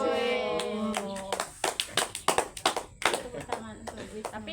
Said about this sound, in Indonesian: Tepuk tangan untuk Wisnu.